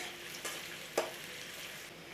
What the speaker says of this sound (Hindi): एक प्याज भी ऐड कर देंगे। दो मिनट में फ्राई करेंगे।